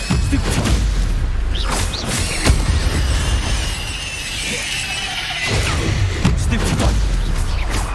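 Spell impacts in the Hogwarts Legacy video game land as repeated booming, shattering crashes with whooshes, dense and loud throughout combat, with a brief lull midway before the blasts resume.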